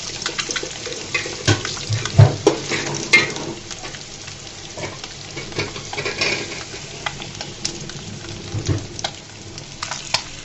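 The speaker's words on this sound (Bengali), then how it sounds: "লাল লাল করে ভেজে নিব।" An egg frying in a pan sizzles and crackles close by, with irregular spatters and scraping knocks as it is moved and turned, and a watery splashing texture mixed in.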